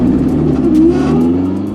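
A 1000 HP all-wheel-drive Nissan GTR and a 770 HP all-wheel-drive Honda DC5 Type R accelerating hard in a 40 mph roll race, with loud engine tones climbing steadily close by and no voices.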